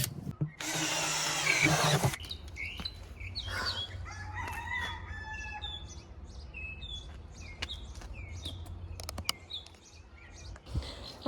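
A drill bores a hole through the bottom of a barrel in one loud, close burst of about a second and a half, followed by roosters crowing and clucking in the background.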